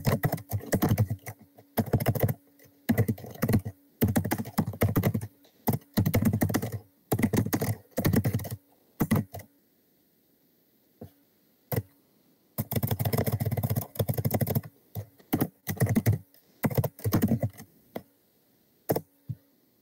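Rapid clattering keystrokes on a computer keyboard come in bursts, with a quiet pause midway before the close, steady typing resumes, near and fairly loud with no voices.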